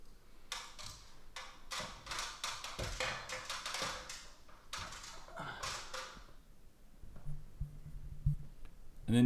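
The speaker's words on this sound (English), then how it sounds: "I'm just cutting little notches with a Stanley knife." A Stanley knife nicks small notches into material while building a geo dome, giving a run of close, sharp scratchy strokes in quick bursts with brief pauses, ending in a few duller knocks.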